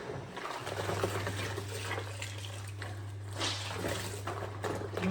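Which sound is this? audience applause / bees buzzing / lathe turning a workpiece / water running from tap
water running from tap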